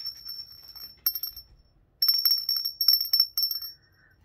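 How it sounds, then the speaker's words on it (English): A small thrift-store bell with a wooden part rings in short bursts, bright sustained metallic tones struck several times with brief pauses between, close and clear. "To be honest, it's not a really annoying bell."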